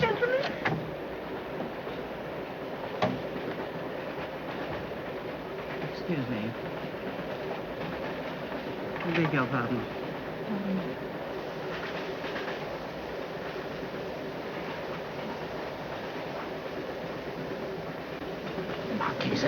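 A passenger train rolls along the rails with a steady low rumble and occasional clacks and squeals, while a few people speak politely nearby over the continuous noise.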